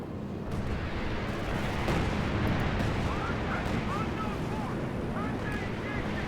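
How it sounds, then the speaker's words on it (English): An air support strike in the World War II strategy game Company of Heroes 2 makes a dense, rumbling barrage of blasts that roars on without a break, loud and close. "Air support called in to break up the German assault here."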